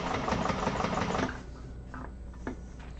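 A sewing machine top stitching a handbag seam, running in a quick even whir for about a second before stopping, leaving quiet handling noises.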